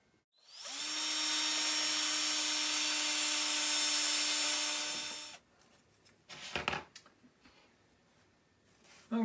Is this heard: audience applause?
no